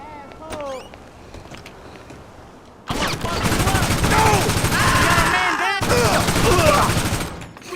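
Gunfire in the video game GTA Online: after a quieter opening, dense bursts of rapid shots break out and continue loudly for several seconds, pause briefly, then resume.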